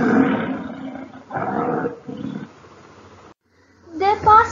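A person imitates a tiger's roar with several loud, rough, growling bursts separated by short pauses, ending with a brief gap and a final harsh surge.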